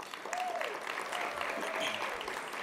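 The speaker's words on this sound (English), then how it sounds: "Please give yourselves a round of applause." Steady applause from a convention luncheon audience, with a few faint voices calling out over the clapping.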